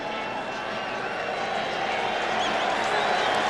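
A large stadium crowd roars and cheers steadily at a 1991 CFL East Final between Winnipeg and Toronto, a dense, continuous wash of noise that swells slightly toward the end.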